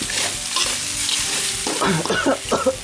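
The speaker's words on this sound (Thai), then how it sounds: "คลุกเคล้าให้เข้ากัน" Quail stir-fry with green peppercorns sizzles and crackles steadily in a hot pan while a utensil stirs and scrapes through it, with clanks and scrapes growing louder toward the end.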